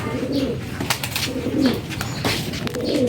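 Pigeons coo softly and repeatedly nearby, low rolling calls recurring every second or so over a quiet background.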